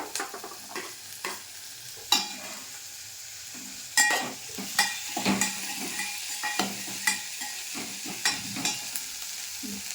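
Garlic, chili and peas sizzle steadily in a pan while a utensil scrapes and stirs in irregular knocks and swishes, close and clear with no voices.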